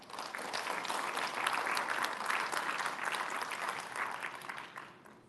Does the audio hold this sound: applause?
yes